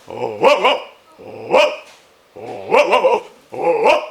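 A voice imitates a dog, producing four growling, barking bursts separated by short pauses, loud and close.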